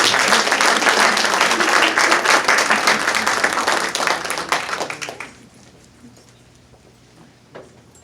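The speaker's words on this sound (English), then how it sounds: "So would you give us a round of applause?" Audience applause at a political conference fills the first five seconds with dense, steady clapping, then drops off sharply to a quiet room with one faint trailing clap near the end.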